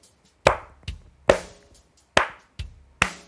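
Sharp hand claps from a teacher in a school music lesson ring out in a rhythmic pattern for students to copy, six crisp strikes in uneven groups, close and alone.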